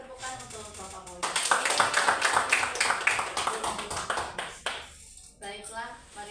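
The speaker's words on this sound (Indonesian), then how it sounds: "Mari beri tepukan untuk Bapak Fauji." A small group claps at a school ceremony in Indonesia, a short burst of clapping that fades out, with talking before and after it.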